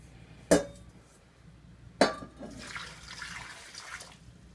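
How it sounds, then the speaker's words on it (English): Water poured into a pot for corned beef brisket: two sharp clinks of a cup against cookware, then a soft, splashy trickle of liquid, all quiet and close. "Three cups of water."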